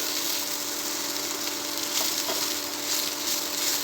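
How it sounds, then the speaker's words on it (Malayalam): Soya chunks fry lightly in a pan, giving a dense, steady hiss and crackle that stays close and even for a few seconds, with no voices. "അത് നല്ലൊന്ന് ഫ്രൈ ആവട്ടെ"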